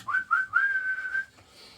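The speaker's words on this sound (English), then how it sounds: "referee's got his whistle in his mouth" A referee's whistle sounds at half time in a Euro League football match: two quick short blasts, then a longer sustained one, loud and close with no talk.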